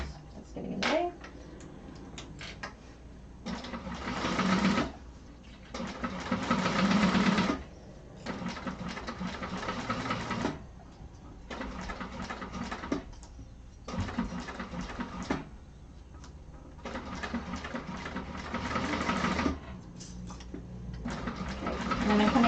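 A sewing machine stitches a Martini bag in several bursts of a few seconds each, steady and close, with short pauses between runs and no talk.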